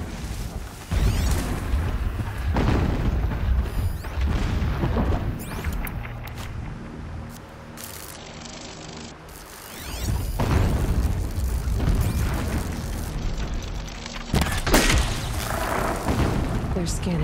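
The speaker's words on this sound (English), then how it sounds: "Explosions in the distance." Deep booming explosions rumble in the distance within Horizon Zero Dawn, several heavy bursts spread over the stretch amid game ambience, with a voice talking over them.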